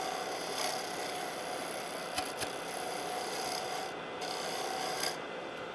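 A carbide turning tool cuts a wooden bowl on a lathe, giving a steady, close, hissing scrape that runs continuously, broken by a couple of brief knocks and short dips where the cut lets up.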